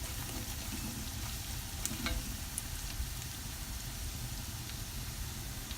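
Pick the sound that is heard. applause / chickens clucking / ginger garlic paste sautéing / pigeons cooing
ginger garlic paste sautéing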